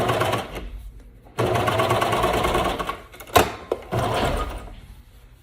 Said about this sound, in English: I'm stitching it to where the right needle hits right on the edge of the seam